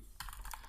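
Typing an SQL query on a computer keyboard, a short run of several quick key clicks close by, with no talk.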